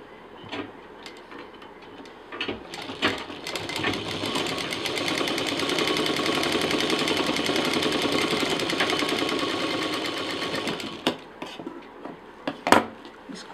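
A sewing machine stitches fabric for a DIY carry-on sling bag, its rapid mechanical chatter building up and running steadily for several seconds before stopping, with soft handling clicks around it and faint talk in the background.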